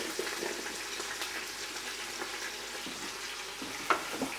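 Onion in a little oil fries on the saute setting of a Ninja Foodi, giving a soft, steady sizzle with a few faint stirring clicks near the end.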